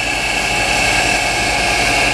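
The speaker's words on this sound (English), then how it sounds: "Taking a look at our Northern Lights generator." A Northern Lights generator running in the engine room of a 1987 36-foot Heritage East trawler gives a loud, steady mechanical drone with a constant hum and no pauses.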